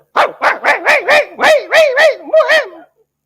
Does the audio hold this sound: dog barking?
yes